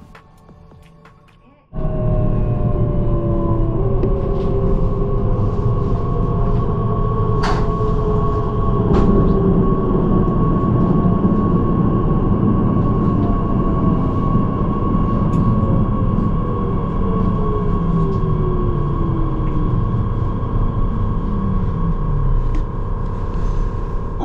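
An electric multiple unit train, a former ÖBB Talent 3, runs close by with a loud, steady rumble and rising whine. A few faint clicks and squeals break through the hum.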